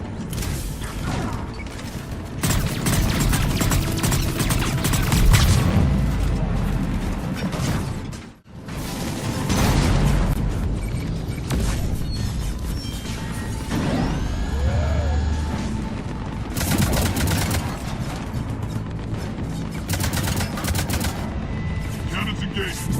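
Heavy cannon and weapon fire in Mass Effect 3 during a fight against an Atlas mech: sustained loud booming blasts and mechanical clatter that fill the scene, with one brief dropout and other battle noise and voices mixed in.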